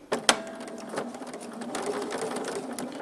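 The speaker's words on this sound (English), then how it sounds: "I'm going to take a couple of stitches." A sewing machine stitches a quarter-inch quilt seam, starting with a couple of quick clicks and then a short, steady mechanical whir of a few stitches, close and clear.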